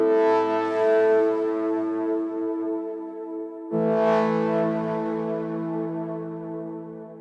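Two long, buzzy, distorted synthesizer notes, each sustained for several seconds and slowly fading, the second starting abruptly after the first.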